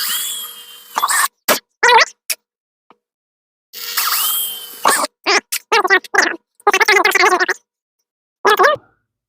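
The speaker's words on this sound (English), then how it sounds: "let's go ahead and drill." A power drill bores holes for mounting parts on a Honda GT250 motorcycle, in two sustained whining bursts near the start and middle, separated by stretches of talking.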